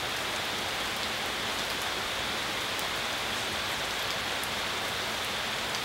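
Monsoon rain falls in a steady, even wash of hiss, constant and unbroken, with no voices.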